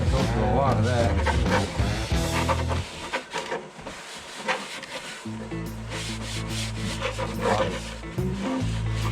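A blue shop towel rubs grime and old dirt off a part from a 1965 Chevy Bel Air, producing steady scrubbing strokes close up, with someone talking over much of it.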